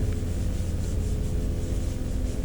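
Steady dry rubbing hiss of fine 800 to 1000 grit sandpaper worked over a car body panel, continuous and close, with no voices.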